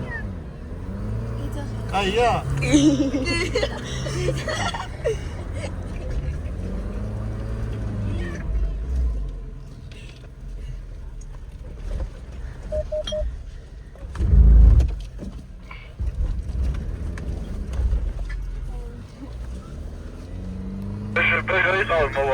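Two cars, one a Pajero, drive on a mountain road in Tusheti, with a steady engine and road rumble through the whole stretch and a louder bump near the middle. Adults and children talk over it throughout.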